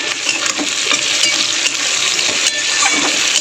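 Tomatoes going into a pan of frying onions and spices, giving a steady bright sizzle with scraping stirring strokes and a few light clinks against the pan.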